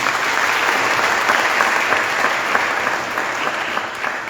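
Congregation at a live church worship service in Budapest, Hungary applauding: steady, dense clapping from many hands filling the room throughout, fairly loud and continuous with no speech over it.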